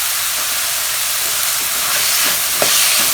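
Onions and tomatoes sauté in a hot pan for a Tamil egg curry, giving a steady loud hiss and sizzle with a few faint stirring clicks.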